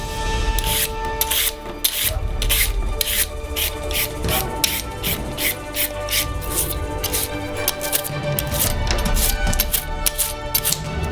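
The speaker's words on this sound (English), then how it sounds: "We take a basin and begin to peel the carrots with a vegetable peeler." Carrots are peeled over a basin with a vegetable peeler, giving repeated quick scraping rasps at close range over a steady background hum.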